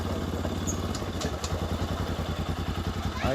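Motorcycle engine running steadily throughout while being ridden on a rural road trip from Koshi Bridge to Chaudandigadhi in Nepal, a continuous close, loud drone with faint clatter and no talking.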